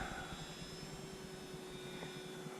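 A small engine drones steadily with a thin high whine, an FMS Sbach 342 model plane buzzing overhead at moderate distance, no talking.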